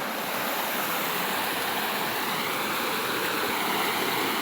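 Mountain stream running swollen and muddy after rain upstream, a steady close rushing wash of water that fills the whole stretch without pause.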